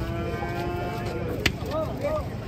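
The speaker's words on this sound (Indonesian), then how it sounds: "Sapi langka." A cow lows at a busy cattle market, a faint lowing under a constant crowd hubbub with a brief sharp click.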